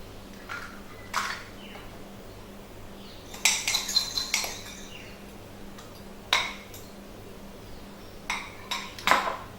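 Eggs are whisked quickly in a single pot for a coconut ginger cake, producing bursts of metallic clinking and scraping against the pot, separated by quiet pauses.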